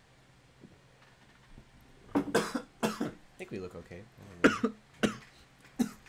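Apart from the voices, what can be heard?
cough near the microphone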